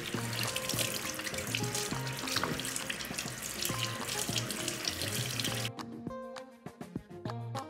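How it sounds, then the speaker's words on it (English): Hands being washed under a running kitchen tap, with steady splashing water filling a sink and the flow cutting off near the end, leaving a few drips and clinks, close and loud, with no voices. "Wash your hands thoroughly."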